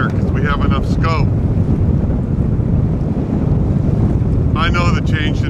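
Strong wind roars over an anchored boat in the Sea of Cortez, a loud constant rush buffeting the microphone, with faint chirping sounds near the start and end.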